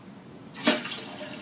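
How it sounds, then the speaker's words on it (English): A toilet's water supply is turned on and the tank begins filling: quiet at first, then a sudden hiss and rush of running water that carries on steadily. "So we're going to turn on the water right now,"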